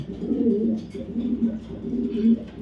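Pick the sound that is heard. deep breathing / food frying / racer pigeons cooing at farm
racer pigeons cooing at farm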